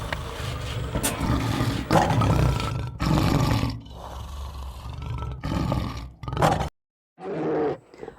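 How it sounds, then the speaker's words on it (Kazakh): A lion roaring in a series of loud, close, rumbling bursts with short breaks and a brief silence near the end; no talking is heard over it. "Арыстан, арыстан."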